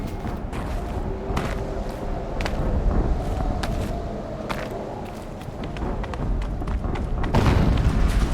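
Deep booming rumble from an explosion in the video game Horizon Zero Dawn, a sustained heavy low roar with scattered thuds and footsteps, swelling loudest near the end.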